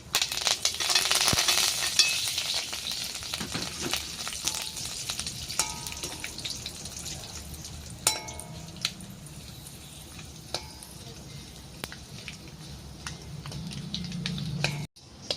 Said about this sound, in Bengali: অল্প তেলের মধ্যে আমি আগে একটু এই যে কালো সরষা দিলাম আর একটু কারি পাতা দিলাম